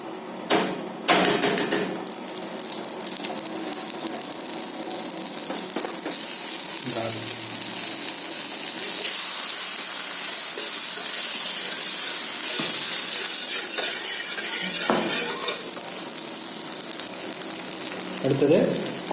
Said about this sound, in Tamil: 25 கிராம் பட்டர் இதில் ஆட் பண்ணிக்கலாம்.